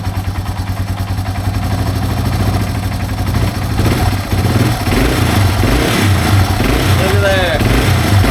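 A Yamaha TW200 motorcycle with a freshly overhauled carburetor runs at a steady, close idle, then climbs into rising revs near the end while someone speaks briefly over the engine.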